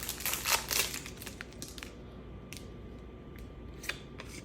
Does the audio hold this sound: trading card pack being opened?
yes